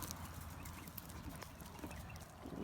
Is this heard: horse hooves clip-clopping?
yes